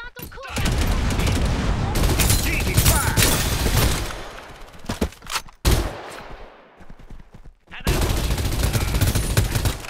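Loud, dense gunfire exchange from a Farlight 84 battle, sustained bursts that cut off briefly around the middle before resuming, with voices speaking over parts of the fighting.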